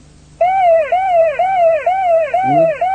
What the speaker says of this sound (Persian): الان ماشین تو دنده هست، آژیر میزنه که الان باید که خلاص کنه